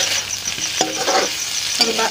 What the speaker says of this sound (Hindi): आलू को भी हमें मसाले के साथ में 5 मिनट तक इसको हमें फ्राई करना है।